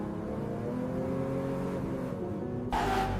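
A Bugatti Chiron hypercar engine with four turbos revs hard, a deep sustained roar close and loud, ending in a sharp brighter burst of power.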